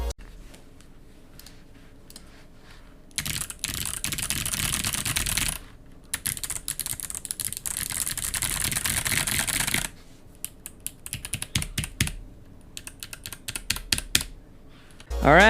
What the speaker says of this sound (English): Here is a sound test of the Box Jades.